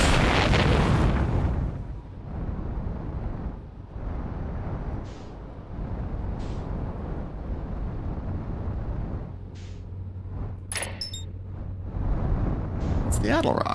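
A spaceship lifts off in the video game Outer Wilds, opening with a loud rumbling burst that settles into a steady low roar, with a player talking over it.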